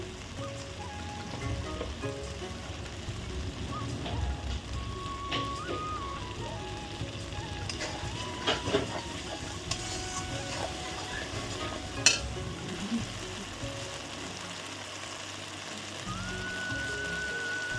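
Spice paste for a prawn malai curry poured into a hot pan, then frying with a steady close sizzle and intermittent scraping and stirring of the spoon against the pan, no talk.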